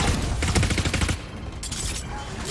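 Rapid gunfire in the tactical shooter Valorant, with a loud, dense burst of shots that gives way to quieter, scattered game sounds.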